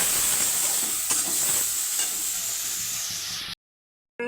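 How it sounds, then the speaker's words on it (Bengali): Chopped onion sizzling loudly in hot oil with bay leaf and whole garam masala, a dense continuous hiss with a few soft stirring knocks, then abrupt silence near the end. "তেজপাতা দেবো, গোটা গরম মশলা দেবো, পেঁয়াজ কুচি দেবো"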